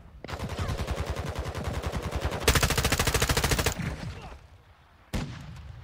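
M4 'Union Guard' rifle fired in Call of Duty Modern Warfare II: two long, rapid full-auto bursts of loud, close shots, a brief pause, then a single sharp shot at the end.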